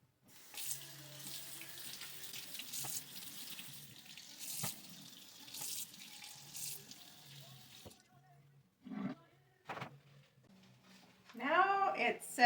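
Running tap water splashes steadily as oranges are washed at a kitchen sink, a soft, continuous stream that cuts out partway, followed by brief clatter and a voice near the end.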